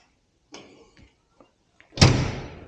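A 40-year-old 8030 tractor's cab door, fitted with a dome light, swings shut with one loud, close slam that rings briefly, after a few faint clicks and soft handling noises.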